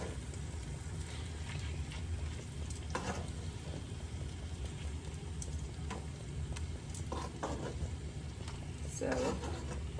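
Three-cup chicken cooking in a pan: a steady, moderate sizzle and frying hiss runs throughout, with occasional clinks and stirring noises. Someone talks over it.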